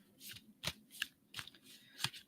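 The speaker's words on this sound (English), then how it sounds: "I'm going to shuffle my cards." Close, quiet shuffling of oracle cards: a few separate riffles and slides of stiff cards, with brief pauses between them.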